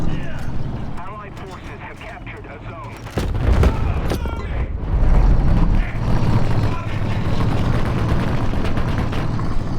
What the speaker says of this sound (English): As we can see, its ammunition exploded, since I shot the right place